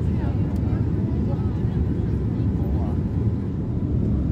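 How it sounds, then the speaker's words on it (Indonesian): A steady, loud roar of jet engines and air fills a Royal Brunei Boeing 787-8 cabin during descent, a constant low rumble with no breaks. "pesawat mulai menuruni ketinggian untuk mendarat di Bandar Sri Begawan"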